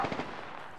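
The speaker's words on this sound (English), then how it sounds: "I'm getting shot!" A short burst of video-game gunfire from Apex Legends rattles out at moderate loudness, starting as rapid shots that quickly fade into a low trailing rumble.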